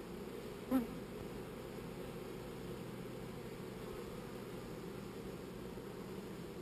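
Honeybees buzz steadily at a hive entrance as foragers return carrying pollen, a continuous low drone with one brief closer fly-by near the start.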